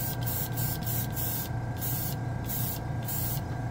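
A craft-store spray can of paint spraying in a workshop, a loud, steady hiss with short rhythmic bursts as the nozzle is pressed and released, over a low background hum.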